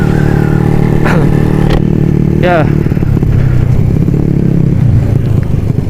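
A Honda Supra motorcycle with a modified engine and a new exhaust silencer revs loudly and steadily up close, with someone talking over the engine throughout.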